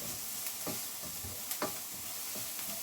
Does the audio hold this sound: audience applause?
no